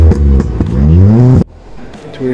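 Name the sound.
loud exhaust of a lowered Volkswagen Polo GT revving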